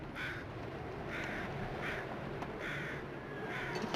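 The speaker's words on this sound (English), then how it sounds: "But let's check out what these birds are circling." Crows caw in the Long Dark video game's wilderness: repeated harsh calls at a moderate distance, layered over a steady roar of wind.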